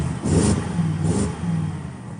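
A BMW E63 6 Series prototype engine revs in freezing cold, two or three rising bursts of a mid-pitched engine close by with a steady rumble between them.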